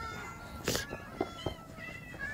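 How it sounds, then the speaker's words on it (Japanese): A cat in the video game Minecraft meows a few times, short and fairly close, over a game background of tones and soft clicks. "可愛い猫ちゃん"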